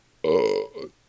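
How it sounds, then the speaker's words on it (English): A single loud, drawn-out burp close to the mic, lasting about half a second, followed by a shorter second gulp-like burp, with quiet room tone before and after. "I just fucking burped into my own beverage."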